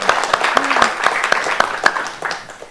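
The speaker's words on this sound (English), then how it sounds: "Please give a round of applause to Lyn." Audience applause for the author Lyn at a literary weekend event in Port Fairy: steady, dense clapping from a seated crowd, fairly loud and sustained across the whole stretch, with a few sharper individual claps standing out.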